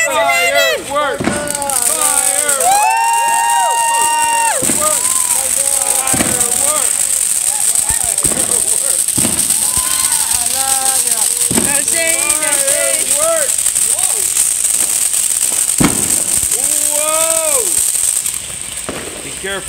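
Backyard fireworks at a 4th of July celebration, a continuous loud run of crackling, whistling and popping bursts close by, with excited voices shouting throughout.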